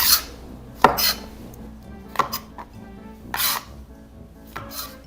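Mushrooms are cut in half on a board for beef bourguignon, with a handful of sharp, close knife chops spaced irregularly over a quiet background.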